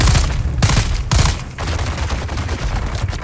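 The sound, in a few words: gunfire in video game Dune Awakening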